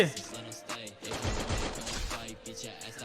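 Rapid bursts of video-game gunfire crackle through a busy, loud mix, with shots overlapping heavily between about one and two seconds.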